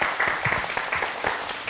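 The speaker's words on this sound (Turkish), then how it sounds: "O zaman Kerem'e tekrar bir alkış alarak uğurlayalım." A group applauds a guest named Kerem at a 23 April children's special event, steady dense clapping running the whole time without a break.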